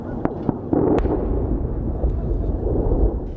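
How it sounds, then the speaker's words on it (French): Sharp explosive bangs from bombs dropped by a US B-1 bomber and bursts of gunfire crack out early, followed by a rumbling, continuous blast-laden din, in the war against the Islamic State. "Le son des armes et l'explosion de bombes larguées par ce B-1 américain"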